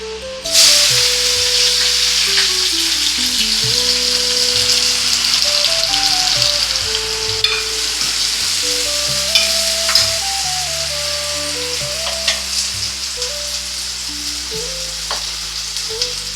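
Onions and fenugreek seeds sizzle and fry in hot oil, a loud continuous crackling hiss. Soft background music plays underneath and there is no speech.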